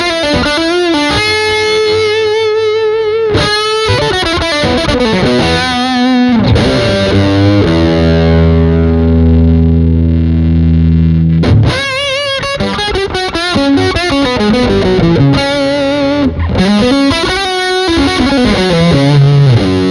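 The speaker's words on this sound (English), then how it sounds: "let's turn the distortion on" Distorted electric guitar played through a portable backup rig, loud and continuous with chords and sustained notes, a held ringing stretch in the middle, no talking.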